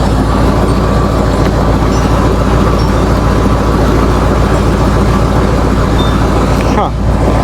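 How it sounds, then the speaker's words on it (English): Engine of a truck running steadily and close by, with a faint rhythmic ticking from a loose pulley woven into the idle drone, which dips briefly near the end. "Huh. Yeah, that pulley's loose as shit."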